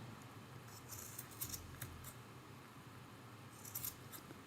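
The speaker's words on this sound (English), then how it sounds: "And then we're just going to keep trimming until we get our little puff ball to look just like we want it to." Scissors trim a yarn pom-pom for a Christmas ornament: a few quick, faint snips, then a short cluster of cuts near the end against a quiet background.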